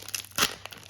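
Tearing open a Japanese Pokémon card booster pack: brief crinkles of the foil wrapper, then one sharper rip near the middle, close up, quiet and without talk.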